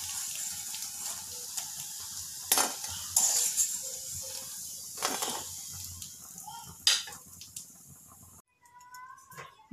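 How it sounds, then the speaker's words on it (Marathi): Bhaji fritters frying in oil give a soft, steady sizzle, broken by scrapes and clinks of utensils against the pan, before the sizzle cuts out near the end. "भज्या आपल्या या ठिकाणी व्यवस्थित फ्राय झालेल्या आहे"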